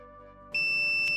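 A multimeter gives a continuity-test beep as its probes bridge the connected pins of a midpoint: one steady electronic tone begins abruptly partway through and holds to the end, close and clear with no speech.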